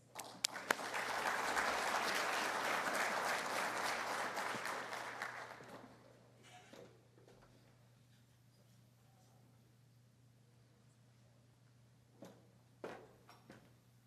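Audience applause rises to welcome an executive director at an opening session, a steady burst of clapping lasting about six seconds before fading into quiet room tone with a few scattered knocks.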